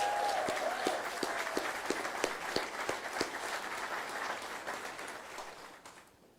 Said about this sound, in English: So if everybody would please give the entire staff that is running around here a round of applause, please.